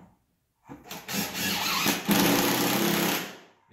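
A power driver drives a screw into OSB, a close, loud whirring burst lasting about three seconds after a short silence.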